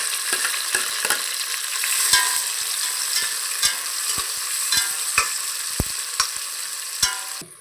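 Onions and tomatoes sautéing for veg biryani in a pan, a soft steady sizzle broken by frequent sharp clicks and scrapes of a spoon stirring against the pan at close range; no voices.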